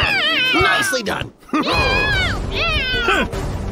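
Cartoon cat meowing and yowling in a string of loud, sweeping, rising-and-falling cries, with a brief pause near the middle, all close and prominent.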